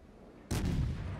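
A single heavy warship gun shot in a naval combat video game, a sudden loud boom after near silence that rolls on with a rumbling tail.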